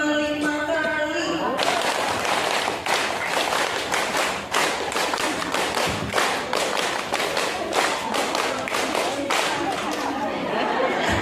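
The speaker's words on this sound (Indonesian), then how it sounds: "Tepuk 5 kali." An audience at a parenting seminar clapping in rhythm, a fast run of sharp claps after a moment of voices, with crowd chatter underneath.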